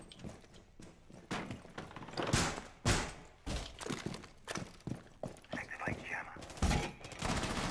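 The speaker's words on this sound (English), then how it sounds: "I'm shooting. It's me shooting. I'm shooting." Gunfire in Rainbow Six Siege during a Valkyrie flank, with sharp broadband shots and short bursts spread irregularly through the clip alongside thumps and footsteps, close and fairly loud, with a voice talking over the action.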